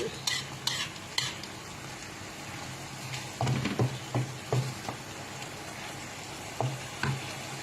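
Tofu stir-frying in oil in a pan, with a steady low sizzle broken by several sharp scrapes and clacks of a utensil stirring against the metal, close and fairly quiet, no talking.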